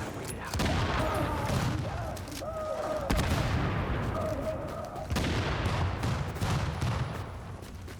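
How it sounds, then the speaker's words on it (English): A video game firefight with bursts of gunfire and sharp explosive booms, one heavy blast standing out among repeated shots, moderately loud, with voices talking over the action. "Grenade out."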